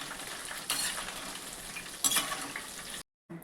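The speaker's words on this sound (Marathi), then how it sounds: "कढीपत्ता असा कुरकुरीत तळून घ्यायचा, एकदम कच्चा नाही ठेवायचा, छान तळायचा." Curry leaves frying crisp in hot oil for maize poha chivda, a steady bright sizzle with louder bursts as the pan is stirred, then a brief drop to silence before the frying resumes.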